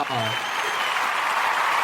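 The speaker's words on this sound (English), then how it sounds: "So everybody give him a round of applause." Brief applause for a returning guest on a talk show, a continuous wash of clapping that begins right after a voice trails off at the start and holds steady to the end.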